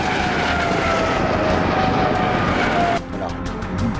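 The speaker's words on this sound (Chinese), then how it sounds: "雷达发现我上空有 A 军直升机过来" A military helicopter passes overhead near a border area, a steady, loud droning rotor and engine roar that fills the clip, dropping slightly in level toward the end.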